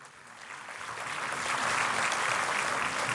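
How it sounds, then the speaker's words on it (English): An audience at a Christmas music festival applauds a school choir, the clapping starting moderately and swelling into a fuller, sustained round. "They deserve a big round of applause for that."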